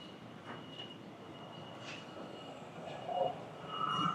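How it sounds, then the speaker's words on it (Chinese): A train rumbles at Fengyuan railway station in Taichung, a steady mid-distance rolling noise with a faint thin squeal building toward the end. "丰原火车站"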